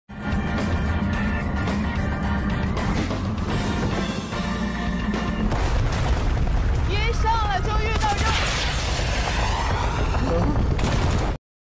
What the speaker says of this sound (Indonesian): Kedatangan mereka disambut dengan tembakan karena berada di tengah-tengah perang.